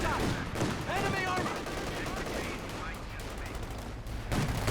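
Machine gun fire rattles in a World War II–style strategy video game, dense rapid bursts and distant gunfire layered into a continuous busy din, with a voice talking over parts of it.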